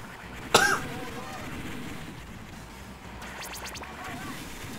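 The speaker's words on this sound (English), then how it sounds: "You're coughing now." A single sharp cough bursts out near the start, followed by a low background hum and a few faint scratchy sounds later.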